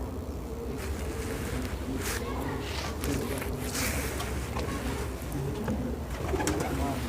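Pigeons coo softly amid a constant rushing background noise, low burbling calls repeating throughout.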